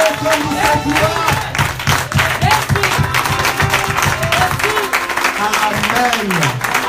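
A church congregation claps and cheers during worship, steady rhythmic applause and excited shouts mixed with singing and voices, loud and close throughout.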